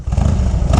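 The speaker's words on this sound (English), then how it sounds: "Hear the exhaust. Has a nice sound to it." A 2000 Harley Davidson FLHTCUI idling low, its exhaust giving a steady, deep, loping rumble up close with no voices.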